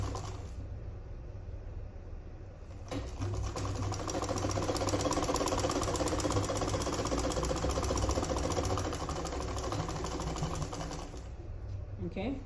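A sewing machine stitches a half-inch seam on a sleeveless gown, its steady motor whirr and rapid needle chatter running continuously for about eight seconds, starting and stopping cleanly, loud and close with faint room tone around it.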